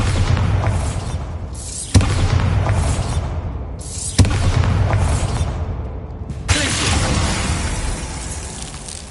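Bombarda spell explosions in the Hogwarts Legacy video game go off as three loud booming blasts, each followed by a long crumbling rumble, with a fourth burst near the end trailing into sustained roaring debris.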